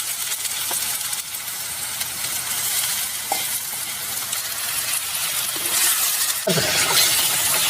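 Tomatoes fry loudly in hot oil in a pan for a spicy Telangana-style mutton curry, with a dense, continuous close sizzle and a few brief stirring clicks.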